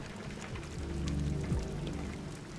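Rain falls in the video game Detroit: Become Human, a soft, steady patter of drops spread evenly across the clip, faint, with a low musical drone beneath.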